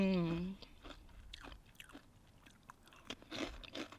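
After a short vocal sound, someone crunches crisp vegan chips close to the mic, with irregular snapping bites and chewing.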